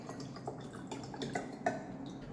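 Ordinary drinking water poured into a glass, a soft close trickle with small splashes and drips, fairly faint, heard without talk.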